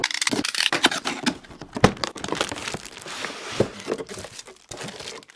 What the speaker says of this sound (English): let's jump into the unboxing and see what this MIDI keyboard is all about